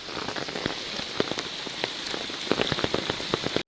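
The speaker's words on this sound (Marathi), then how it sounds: "इतका पाऊस पडतोय" Heavy rain at a Mahabaleshwar viewpoint, a steady close downpour with many distinct drop impacts pattering on a nearby surface, cutting off abruptly at the end.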